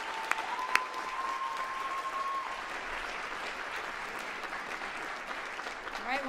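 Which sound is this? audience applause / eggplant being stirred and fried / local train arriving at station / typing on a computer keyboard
audience applause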